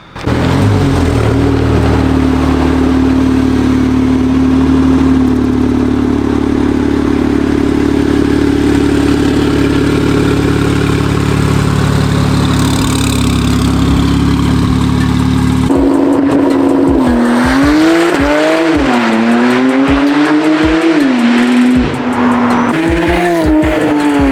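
A Porsche 911 Turbo S driving hard, its engine roaring loud and close with a steady drone, then rising and falling sharply through gear changes and revs in the second half.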